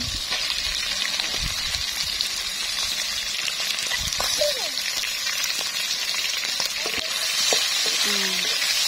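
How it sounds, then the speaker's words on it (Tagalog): Chicken pieces hitting a hot frying pan during outdoor cooking on a windy day, setting off a loud, steady sizzle and crackle that runs throughout, with faint brief voices in the background. "I'm going to add in the chicken"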